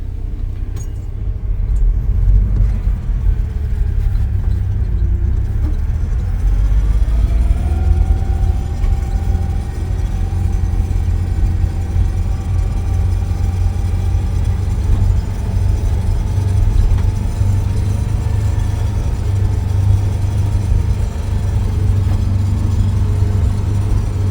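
A 1961 Willys Jeep driving in second gear, its steady low engine rumble loud and close, with the pitch gradually climbing as it pulls along continuously throughout.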